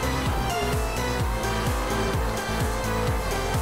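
A 1000hp McLaren P1 races in Project Cars 2, its engine screaming loud and close through repeated rising gear sweeps, each climb cut off by a quick shift before building again.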